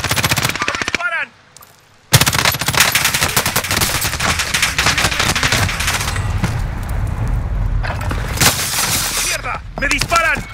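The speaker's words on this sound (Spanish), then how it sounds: "¡Me disparan!" Rapid automatic gunfire from the shooter game Call of Duty: Modern Warfare (2019), loud and close, sustained in dense bursts after a brief pause, with short voice callouts and chatter woven in.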